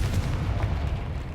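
A Confringo blasting spell explodes in Hogwarts Legacy, a dense low rumbling boom with crackling debris that fills the short moment steadily and loudly, with no voices.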